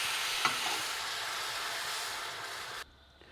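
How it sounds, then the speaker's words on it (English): Cream hitting a hot non-stick saucepan gives a steady, close hiss with a brief sharp tick early on, stopping abruptly near the end. "I got a non-stick saucepan heated up, and I'm going to add about 100 mils of cream into there"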